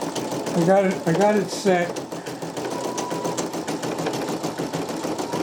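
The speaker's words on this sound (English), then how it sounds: "this machine cuts jump stitches." Brother embroidery machine stitching a design, a steady rapid mechanical whir running throughout beneath a person talking briefly at the start.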